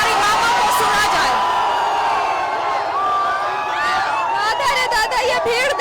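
A large crowd of protesting survey workers fills the air with loud, continuous chanting, shouting and whooping, voices overlapping throughout.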